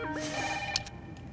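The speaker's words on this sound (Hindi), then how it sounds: "फोन बज रहा है, सुनाई नहीं दे रहा है तुमको?" A telephone ringing in a village home, a short electronic trill heard faintly under ambient noise.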